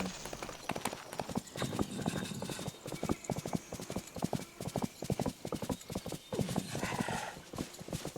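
Hooves clip-clop in a brisk, uneven rhythm with a faint horse whinny partway through, moderately close and a little muffled, from horses in the video game Dreamlight Valley.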